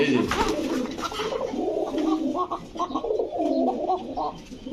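A male pigeon coos steadily in soft, rolling low calls close by, with other pigeons cooing faintly behind and someone speaking under the sound.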